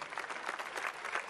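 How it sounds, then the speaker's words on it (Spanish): An audience at the Sapucay national chamamé festival applauds Raúl Barboza, warm steady clapping from a large crowd, evenly sustained throughout. "el público del Cocomarola lo aplaude cariñosamente"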